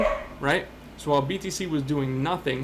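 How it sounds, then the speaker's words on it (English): A dog barks in the background while someone talks about trading, a few short barks breaking through between and under his speech. "barking in the background"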